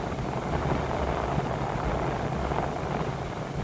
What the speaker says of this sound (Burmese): မိုးရွာတော့မယ်